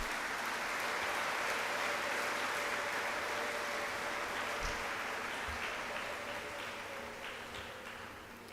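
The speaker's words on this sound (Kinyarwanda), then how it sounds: "mwongere muntiza amashyi twifuriza abasaserdoti bacu umunsi mukuru" A church congregation applauds its priests in a sustained, even wash of many clapping hands. A couple of soft low thumps sound partway through, and the applause slowly fades toward the end.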